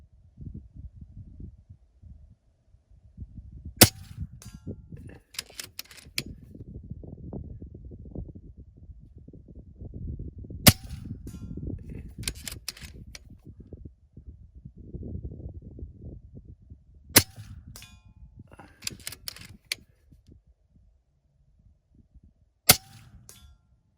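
An Umarex Zelos .22 air rifle fires AEA 25.3 grain pellets at 100 yards, each crisp sharp crack followed by a quick distant ring, repeated in pairs over steady outdoor wind noise.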